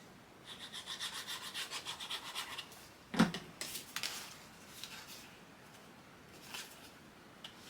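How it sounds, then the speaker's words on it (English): Folded paper score line on a holiday scrapbook album page being burnished down by hand: soft rhythmic rubbing strokes, close and quiet, then a sharp tap followed by a few scattered scraping passes. "Burnish that down and down"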